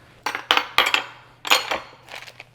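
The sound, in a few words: bowls being cleared off the counter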